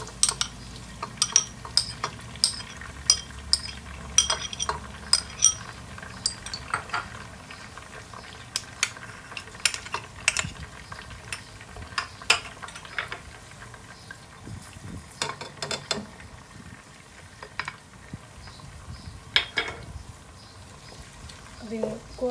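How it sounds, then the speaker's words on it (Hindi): Tomatoes, green chillies and spices are stirred into fried onions in a pan for chana pulao, giving a soft ongoing sizzle broken by the scrape and clink of a spoon, with no one speaking. "अब मैं इसके अंदर टमाटर, हरी मिर्चें और मसाले जार शामिल करने लगी हूँ"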